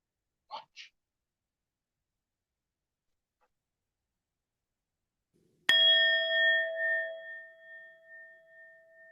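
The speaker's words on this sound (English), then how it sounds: "we ring the bell of sacredness" A single bell at a New Thought Sunday church service is struck once after a short silence, ringing out clearly with a long, slowly fading sustained tone; a brief faint sound comes earlier.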